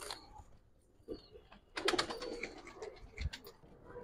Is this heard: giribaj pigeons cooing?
yes